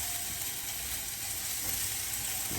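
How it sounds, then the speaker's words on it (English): Spinach and peppers sauteing in a hot pan for an omelet, a steady close sizzle and hiss with faint stirring scrapes, continuous throughout and without voices. "we're still sauteing the vegetables, and they're getting there"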